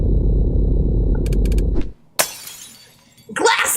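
Glass shatters in a video game with a sharp crash and tinkling debris, following a loud low rumbling bed that cuts off abruptly; a few faint pings precede the break and scattered fragments trail after.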